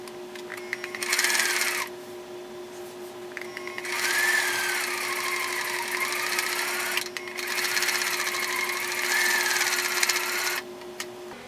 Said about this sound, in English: I'm gonna sew along here.